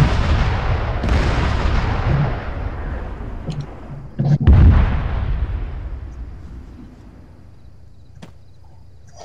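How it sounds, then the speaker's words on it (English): Deep booming blasts and rumbling explosions from missile launches in the video game Arma 3, with a loud sharp impact midway and a long fading roar. "I'm launching missiles from on high as well now"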